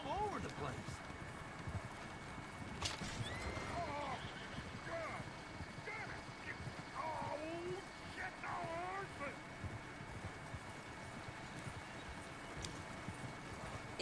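Steady clip-clop of hooves with an occasional horse whinny in the video game Red Dead Redemption 2, mixed with outdoor ambience and people talking over it throughout.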